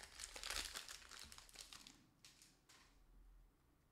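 A Pokémon card booster pack's foil wrapper crinkles and tears near the microphone in a short burst of bright rustling that fades after a couple of seconds, with no voices.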